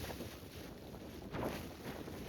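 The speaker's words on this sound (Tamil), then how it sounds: "இங்கிருந்து மேலே பிக் பாயிண்ட் போகிற வரைக்கும் செம்மையான காற்று" Strong, steady wind gusting on the open summit of Kudremukh peak in Karnataka during a cold trek, a broad continuous roar buffeting the microphone with a brief surge midway and no voices.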